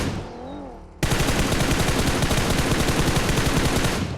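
Sustained rapid automatic gunfire in the PUBG video game erupts after a second of softer ambient game sound, loud and continuous to the end.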